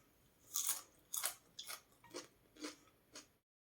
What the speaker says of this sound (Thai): ลองกินสดให้ดู